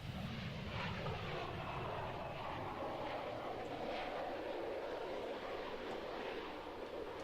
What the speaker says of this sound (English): looking at this particular aircraft, as you can see, it's the German ECR Tornado